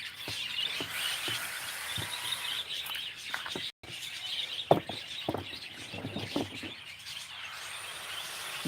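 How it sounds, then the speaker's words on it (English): A brown and black bird, bigger than a crow, calls from trees outdoors, with repeated short chirps and tweets at moderate distance over steady rustling ambience, no talk. "There's a brown and black bird, bigger than a crow."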